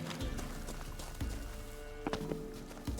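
Horse hooves in The Witcher 3: Wild Hunt clip-clop at a steady, moderate pace along a path, with a few sharper thuds standing out over a constant background of ambient game sound.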